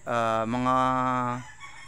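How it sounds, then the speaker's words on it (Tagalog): A young early-bird-age cockerel gives a single close, loud crow lasting over a second, strained and slightly broken in the middle, then trails off into quiet. "Tapos syempre may mga cockerels din po tayo dito."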